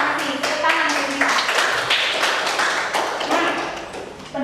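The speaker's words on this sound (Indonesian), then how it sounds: "Tepuk tangan kita." Classroom students clapping in scattered, uneven bursts, distinct close hand claps and taps overlapping with some voices for a few seconds.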